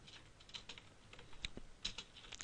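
Soft, close clicks of computer keyboard keys pressed for a shortcut, a quick irregular run of light taps with a couple of firmer presses, alone and faint.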